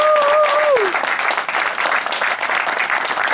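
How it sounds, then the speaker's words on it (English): Sustained applause from an audience at an awards ceremony for a national air rifle field target championship, steady dense clapping throughout, with a brief whistle-like tone near the start. "Give a round of applause."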